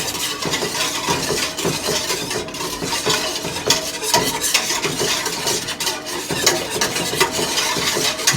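Soft serve ice cream mix is stirred vigorously in a container resting on a stove, with steady scraping and sloshing that is close and fairly loud and runs continuously with no one talking.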